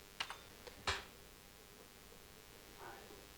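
A few sharp keyboard key presses click close by while editing in Adobe Premiere Pro, two or three quick taps then a firmer one, followed by quiet.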